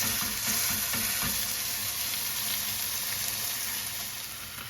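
A smash burger patty sizzles on a hot pan, a dense, even hiss close up that holds steady and eases slightly toward the end, no talking.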